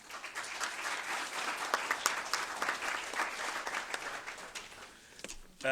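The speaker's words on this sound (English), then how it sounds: "Let's have a round of applause for them." Audience at a chamber of commerce legislative coffee applauds steadily for several seconds, a moderately distant wash of clapping that thins out toward the end.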